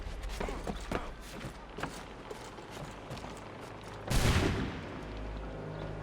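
Muskets and rifles crack in a ragged volley in the game Assassin's Creed 3, several scattered sharp shots followed by a louder close burst, set over a busy background.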